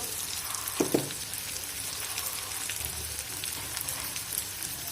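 Ground turmeric, cumin and coriander with salt sizzle steadily as they are sautéed in hot oil in a pan, a continuous close frying hiss with one brief clink of a stirring spoon early on.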